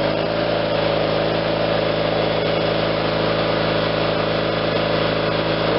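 A John Deere 318 garden tractor's Onan engine idles steadily nearby, a constant even drone with a faint rhythmic pulse throughout, no talking.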